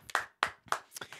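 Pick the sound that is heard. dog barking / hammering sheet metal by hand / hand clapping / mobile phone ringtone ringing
hand clapping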